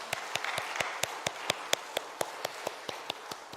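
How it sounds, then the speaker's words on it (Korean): A church congregation at a Sunday afternoon service gives a round of sparse, sharp hand claps. The claps land as distinct close taps at a steady, slightly uneven rhythm and keep going for a few seconds without any talk. "우리 박수 한번 치겠습니다."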